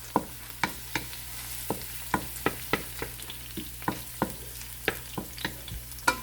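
Garlic sautéing in a pan for tofu with chayote, a soft background sizzle punctuated by a steady run of regular stirring taps and scrapes about twice a second.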